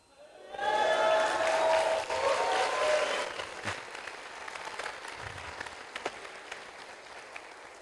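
A church congregation bursts into loud, dense applause that swells for a few seconds, then thins into scattered claps and cheers that fade out.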